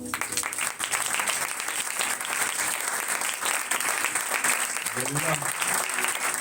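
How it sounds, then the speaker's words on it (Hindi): A congregation at a Christian worship gathering applauds loudly, sustained rapid clapping from a crowd, with a voice speaking briefly near the end. "खुदा के लिए जोरदार तालियां बजाएं।"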